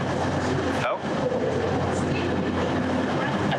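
A train rumbles steadily and loudly with a broad mechanical roar and brief gap, heard from aboard or beside the carriages, with people talking over it.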